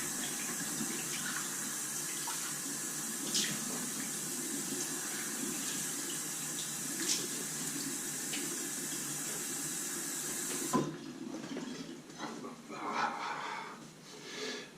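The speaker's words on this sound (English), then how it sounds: "Now the cold water splash." Cold tap water runs and splashes steadily in a bathroom sink after a straight razor shave, a constant rushing hiss that cuts off abruptly near the end, leaving scattered drips and small splashes.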